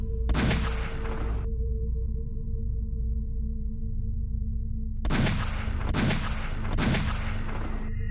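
Gunshots ring out from a train car ahead: one loud sharp report, a long gap, then three more shots in quick succession, each with a lingering tail, heard alone over a steady low rumble.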